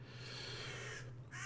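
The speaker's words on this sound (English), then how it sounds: "Excuse me if you can hear the crows outside." Crows caw outside, a short burst of harsh calls heard faintly through a steady indoor hum, with no talking.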